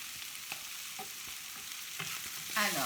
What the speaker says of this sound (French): je remue un petit peu pour que le piment se mélange bien à mon curry